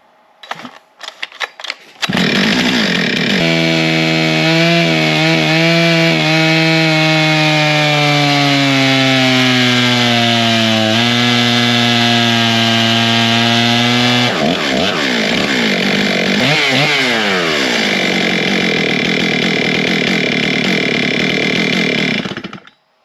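A Stihl MS661 chainsaw fitted with a 58mm forged big bore piston kit runs on a dyno, starting with a few sputters, then holding a loud, steady high-revving roar that wavers and drops back before cutting off.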